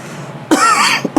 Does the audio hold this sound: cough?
yes